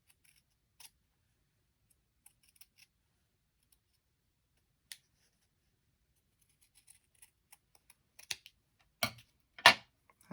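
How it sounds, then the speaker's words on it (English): Scissors cutting folded paper for a hidden pocket envelope: sparse, faint snips at first, then several louder, closer cuts in quick succession near the end, with no talking. "So I can cut it just a little bit straighter"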